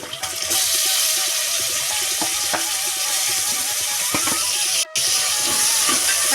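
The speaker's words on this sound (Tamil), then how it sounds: "இப்போ வந்து நம்ம தக்காளி சேர்த்துடலாம்" Onion, ginger garlic paste and tomato sauté in hot oil for mushroom biryani, a steady loud sizzle and hiss with occasional stirring scrapes, close and continuous, no talking.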